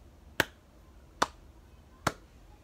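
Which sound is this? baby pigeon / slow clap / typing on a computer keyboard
slow clap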